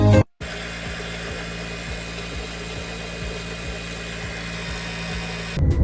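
A Jack sewing machine runs steadily for several seconds to clear excess oil and leftover threads, a close, even whirring motor with a regular ticking needle rhythm, starting and stopping abruptly.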